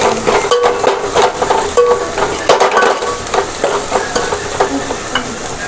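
Loud close frying in oil for a spicy chicken curry, constant crackling sizzle with busy clattering stirs and scrapes of a spoon against the pan throughout, no talk.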